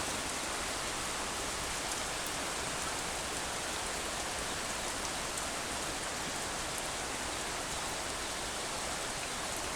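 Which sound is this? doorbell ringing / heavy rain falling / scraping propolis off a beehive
heavy rain falling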